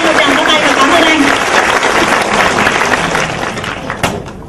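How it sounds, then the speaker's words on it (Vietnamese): Loud, close applause from a seminar audience, a thick burst of clapping with some crowd voices mixed in, holding strong before tapering off slightly toward the end. "Cho anh một tràng pháo tay và cảm ơn anh."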